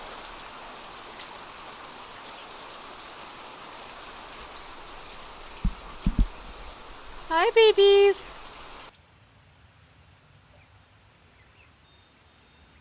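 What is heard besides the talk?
rain falling and dripping on the duck enclosure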